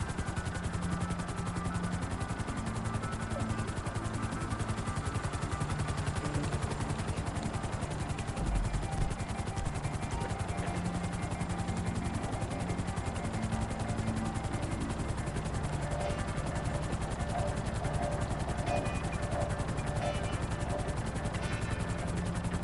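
A helicopter flying in a video game at about 1,500 feet: a steady, loud rotor and engine drone that holds unchanged the whole time, with no voices.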